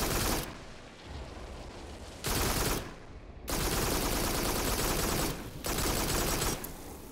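Gunfire in the VR game Farpoint rattles in sustained automatic bursts, loud and continuous, with brief lulls between volleys and no talking.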